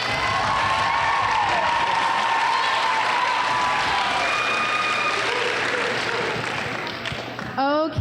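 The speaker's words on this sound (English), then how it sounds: "Can we give her one more round of applause?" A school opening ceremony audience gives a loud, sustained round of applause with cheering and whoops, dense clapping filling the room before it fades near the end.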